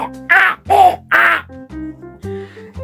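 Crows caw in a series of three loud, harsh calls close by, followed by quieter tonal sounds, with no talking.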